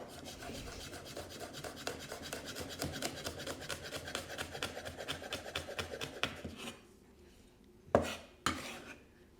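A knife chops chili on a cutting board, a long run of quick, even, close taps that stops, followed by two louder separate knocks.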